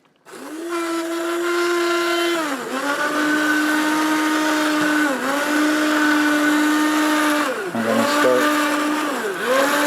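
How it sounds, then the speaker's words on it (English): A loud immersion blender whirs steadily for several seconds, briefly dipping in pitch a few times as it churns through thick cauliflower soup. "I got my rotary blender here"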